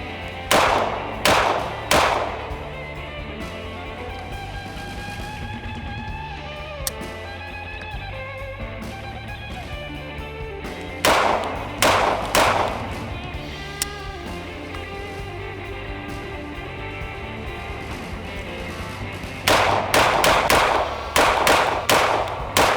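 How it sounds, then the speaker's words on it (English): A handgun is drawn from a holster and fired in rapid strings of three or four loud shots, with three separate volleys spaced apart and a steady outdoor background between them. "I'm gonna shoot from the holster with it, just do some draws and things like that."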